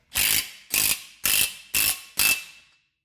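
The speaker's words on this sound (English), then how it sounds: "get yourself a 19 mil and fire on these nuts" A ratchet with a 19 mm socket spins on the front brake nuts of a 2010 Dodge Grand Caravan, giving five loud, evenly spaced bursts of rapid clicking, each roughly half a second long, close up with no talk.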